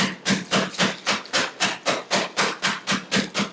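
Shrimp paste sealed in a bag is pounded flat with about fourteen steady, evenly spaced dull thuds, each a firm close slap, the blows continuing without pause or talk.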